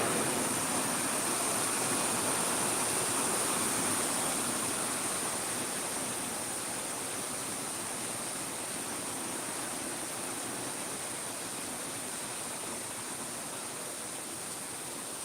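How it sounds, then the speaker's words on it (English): Heavy rain pours down during a strong thunderstorm in New Jersey under a flash flood warning: a dense, loud, steady roar of downpour that eases slightly over the span, with no talking. "it is really pouring now"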